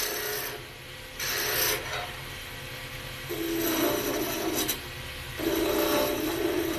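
A spindle-roughing gouge makes a planing cut on a wood spindle turning on a lathe. The cut gives a steady, close rasping shave that swells and eases in long passes, with no talk.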